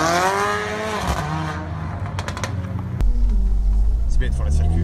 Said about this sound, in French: Ça, c'est une voiture qui ronronne.